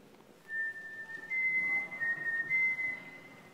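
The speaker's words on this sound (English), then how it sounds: "Listen to that kid whistle. That is lifelike" A seven-year-old child's whistling plays back from a dictation recorder: a clear, sustained tune with wavering pitch and short breaks, fairly faint over light hiss.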